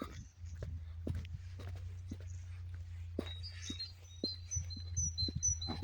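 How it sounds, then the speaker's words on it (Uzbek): Birds chirp and tweet in short bright calls near a mountainside, several calls scattered through the sound and clustering toward the end, over footsteps and scattered knocks close by. "Qushlarning ovozi eshitilyapti azizlar mana."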